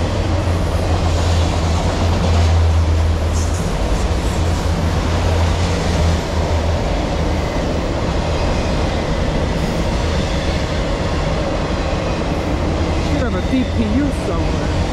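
Loaded freight train with autorack cars rolling past at close range, a steady loud rumble of wheels and cars with low engine drone, continuous through the whole span and no talk.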